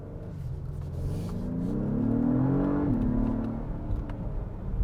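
An Acura MDX Type S SUV accelerating on a road, its engine note rising in a smooth, moderately loud sweep, peaking, then easing off as it settles into a lower rumble, with no voices.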